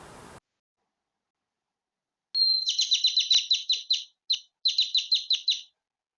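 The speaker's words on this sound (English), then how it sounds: "But I do enjoy the birds, and they seem to enjoy being around here as well." A single bird in a backyard sings a bright, rapid series of high chirps in three close bursts after a long quiet stretch.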